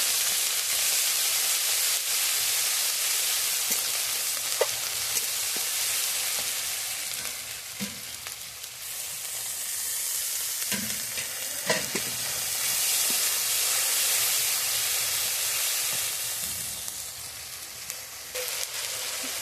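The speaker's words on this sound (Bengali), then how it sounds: "মশলাগুলো সব কষানো হবে এবার" A spice paste of ginger and green chilli stir-fries in a pan, a loud, bright, continuous sizzle with repeated scraping and knocking from the spoon as it is turned.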